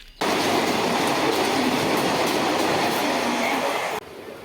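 A Mumbai local train rumbles loudly and steadily with rushing noise, heard close from on board during the crowded morning rush, then drops off abruptly.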